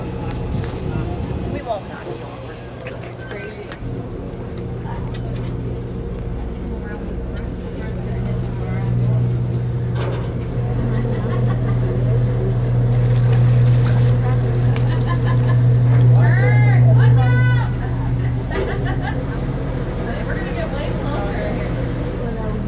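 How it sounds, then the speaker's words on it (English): Cruise boat engines drone steadily close by, a loud low hum that swells midway, with wind, water and intermittent chatter and voices on board throughout. "Now it's the engines are right behind here."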